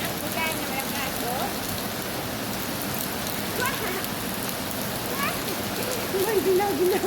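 Rain keeps falling in a constant close hiss, drops pattering on surfaces with a faint trickle of running water, and a few brief chirps or a distant voice rising over the downpour near the end.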